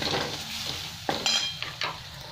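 Spice masala fries in a pan for soybean chicken kofta curry, a close, soft sizzle with a few sharp spoon scrapes and clinks against the pan.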